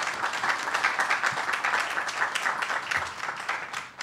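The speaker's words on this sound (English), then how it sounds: "so let's give them a round of applause." Audience applause at a medical research event, a steady, even patter of many hands clapping together at moderate loudness for about four seconds, with no talk over it.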